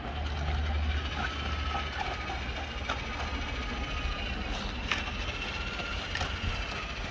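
A Parkside PDRW 1800 B1 twin paddle mixer churns a building compound, giving a steady mechanical whir with faint rattling and ratchet-like ticks, continuous and fairly close throughout with no talking.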